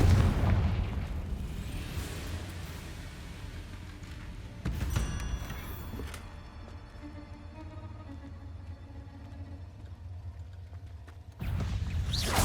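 Confringo fire spells explode in the Hogwarts Legacy game, heavy booming blasts at the start and end with a sharp crackling burst midway. Quieter rumbling and ringing effects sit between the blasts.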